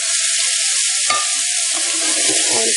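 Chickpeas dropped into hot coconut-spiced oil in a pan give a loud, steady close-up sizzle with a faint stirring scrape, no voices.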